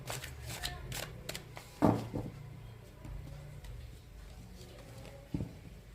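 Tarot cards shuffle and slide close by in a few quick riffles, followed by softer taps and rustles as cards are drawn, all quiet with no talk.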